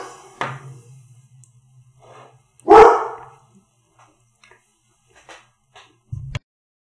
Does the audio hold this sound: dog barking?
yes